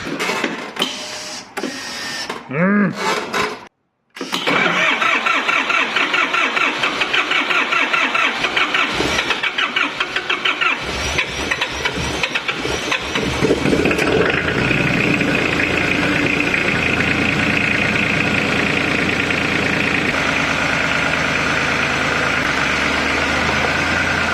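A Triumph Dolomite 1300 with its stock engine cranks in a few short bursts, pauses briefly, then catches and settles into a loud, steady idle close by.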